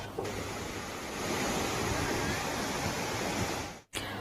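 Chimer waterfall in Tapi district, swollen after rain, roars as a steady dense rush of falling water, loud and continuous, broken only by a brief cut near the end.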